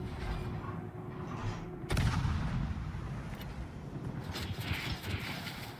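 Warship main battery guns firing in World of Warships, a heavy boom standing out against a rumbling battle background, with fainter blasts and clatter following.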